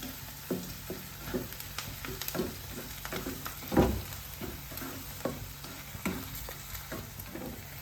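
Onions sautéing in a pan for potato curry, a soft steady sizzle broken by regular stirring scrapes and taps against the pan, close but fairly quiet.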